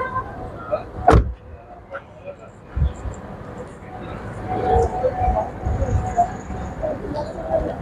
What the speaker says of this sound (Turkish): Şöyle bir de kapı sesini dinleyelim arkadaşlar.